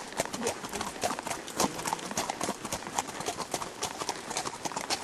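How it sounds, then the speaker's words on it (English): Horse hooves clip-clop steadily on the ground as mares and geldings move about at Moses Cone in Blowing Rock, North Carolina, a busy run of close, overlapping footfalls with faint background voices now and then. "Put the mares together and the geldings, huh?"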